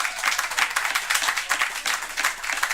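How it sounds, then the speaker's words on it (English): A comedy show audience claps and cheers as a comedian returns to the stage, dense close applause filling the room steadily for about three seconds. "y'all start clapping for Matt Greenwald"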